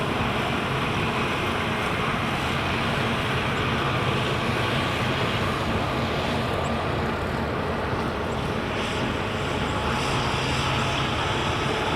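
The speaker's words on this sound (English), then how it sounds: "Ryanair's just taxiing to Holding Point Bravo." A Ryanair airliner taxis at Edinburgh Airport, its jet engines giving a steady, broad rumbling roar at middle distance that holds at an even level throughout.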